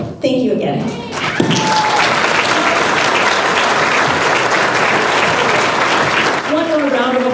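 A banquet crowd at an annual chamber of commerce awards dinner gives a loud, sustained round of applause for beautification award winners, dense clapping filling the room after a brief spoken moment, with a voice resuming as it fades.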